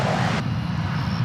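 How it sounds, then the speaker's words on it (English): An Airbus A321 jet takes off from DFW Airport bound for Palm Springs, giving a brief, loud, steady engine roar heard close by with no talking. "An Airbus A321 going to Palm Springs"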